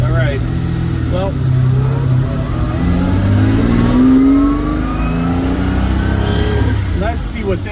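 1950 Ferrari 195 Inter with Vignale body, heard from the passenger seat as its engine revs and accelerates through rising pitch sweeps and gear changes, loud and close, with someone talking over it.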